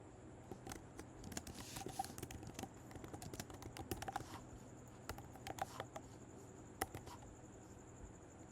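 A Google Ads headline being typed on a computer keyboard: soft, quick, uneven key clicks in irregular bursts over a quiet, faintly humming background.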